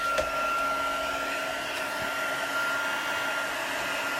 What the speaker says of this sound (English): Just plug my heat gun in. I'll just give that a quick blast.